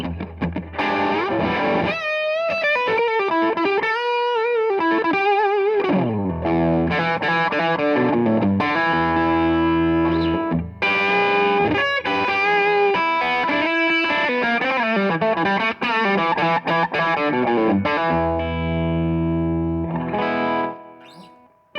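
Electric guitar played through an Origin Effects pedal set to a driven, valve-amp-like tone, heard alone as a continuous run of sustained chords and melodic lines with a thick, saturated sound.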